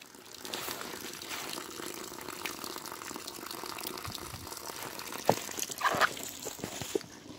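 Water running and flowing steadily outdoors, a quiet continuous trickle with a few brief louder splashes and bird-like chirps near the end.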